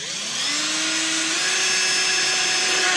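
Power drill boring a hole through a 2017 Chevy SS sedan bumper, a loud, steady whine that rises slightly in pitch partway through and cuts off abruptly at the end.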